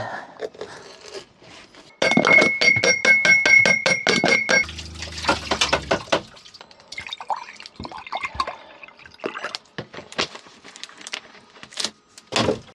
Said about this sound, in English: Every morning, I gotta make my lemon water before I get started.